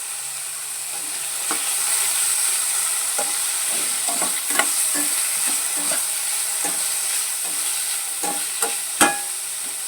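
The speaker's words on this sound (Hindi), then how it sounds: "अब इसको हल्का हल्का सा कर लेते हैं, हल्का हल्का सा इसको फ्राई कर लेते हैं।" Boiled vegetables lightly frying in a pan, a steady high sizzle with repeated scraping stir strokes and a sharp clatter near the end, no voices.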